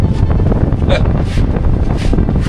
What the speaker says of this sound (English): What a difference a little wind makes